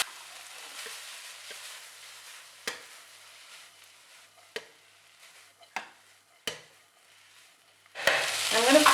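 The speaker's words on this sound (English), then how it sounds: "I'm going to fry the rice for about 2 minutes in high heat." Rice with mushrooms, pepper and spring onions fries on high heat, a continuous sizzle punctuated by several sharp clinks of a utensil against the pan, swelling into a loud hiss at the end.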